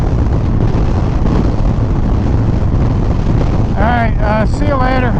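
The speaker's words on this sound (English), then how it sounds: "it's just so damn windy right now" Strong crosswind buffets the microphone in a steady, loud low roar through the whole stretch, and a voice talks briefly near the end over the gusting.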